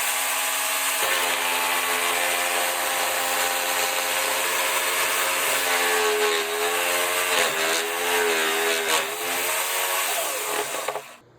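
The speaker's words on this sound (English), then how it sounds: "So let's cut and see what happens." A Rockwell Bladerunner inverted jigsaw buzzes loudly and continuously through wood, its motor pitch wavering as the blade bites, running close for about eleven seconds before winding down.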